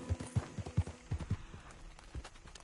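Hooves of a horse in Red Dead Redemption 2 clip-clop in an uneven trotting rhythm, about eight soft, close thuds that fade toward the end.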